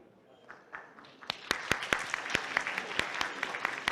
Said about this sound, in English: Only Koko got clap.